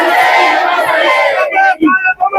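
Hundreds of protesters on a street in Rohtak raise a loud, chanting roar, a sustained crowd shout that breaks into shorter bursts of collective yelling.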